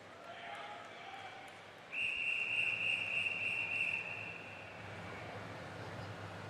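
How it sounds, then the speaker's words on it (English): At a 2012 London Paralympic swimming event, a steady high whistle blast lasts about two seconds over the indoor pool crowd's murmur and a low ambient hum. "the first whistle goes to indicate that the swimmers may get themselves to the front of the blocks"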